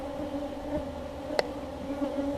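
Agitated honey bees buzz inside a hive, a dense, continuous droning hum close by, with one brief sharp click partway through and no talking.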